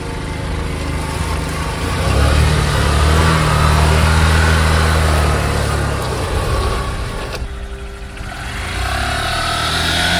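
A car engine drones steadily on a dirt mountain road, swelling louder through the middle, dipping briefly near the end, then picking up again.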